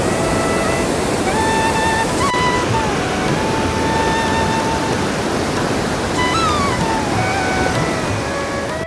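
Continuous loud rushing roar of a rainwater-fed waterfall on a hill trip, a steady sea-like wash with faint tonal whines from something mechanical in the background.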